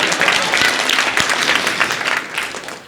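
Sustained audience applause fills a university graduation ceremony hall, dense and steady throughout before tapering slightly at the end, with no voices over it.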